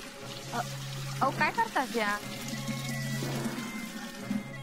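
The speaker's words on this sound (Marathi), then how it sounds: "पाणी भरतंय." Water from a tap runs steadily into pots, a soft continuous stream heard beneath people talking.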